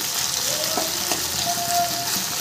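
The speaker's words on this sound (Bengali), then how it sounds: "পেঁয়াজের সাথে মাছটাকে হালকা করে একটু ভাজা ভাজা করবে" Small mourala fish fry with onion in a pan, a steady close sizzle with a few stirring scrapes and no one talking.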